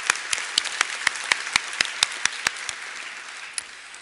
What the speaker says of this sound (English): So if I may ask for applause in his absence